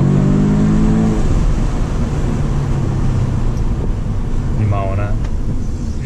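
A car engine drones loudly and steadily from inside the cabin under acceleration, with wind and road roar, while a voice speaks briefly at moments.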